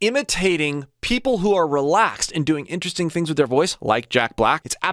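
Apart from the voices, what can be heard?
No everyday noise stands out behind the speech.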